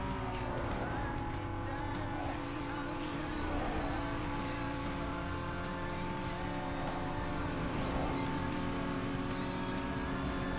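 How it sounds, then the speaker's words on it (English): AI-driven cars in the racing game Need for Speed Underground 2 with engines droning at a steady maxed-out rev, a continuous buzzing whine held for over ten seconds, moderately loud with no letup. "why do all the engines just sound like they're just maxing out and just revving? Of the AI cars."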